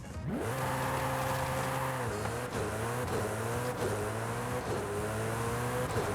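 A Koenigsegg Jesko engine in Forza Horizon 5 revs hard and climbs through the gears past 400 km/h, with rising whines broken by shift drops, loud and close.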